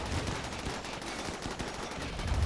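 Rapid bursts of gunfire crackle through a RimWorld video game battle, dense and continuous like machine-gun fire, loud and close.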